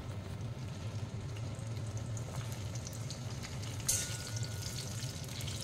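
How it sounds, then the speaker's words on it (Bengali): Cut beans frying in oil in a pan for shukto, a steady low sizzle with soft bubbling and occasional stirring clatter, no talk. "শিমগুলিকেও হালকা করে ভেজে নিতে হবে।"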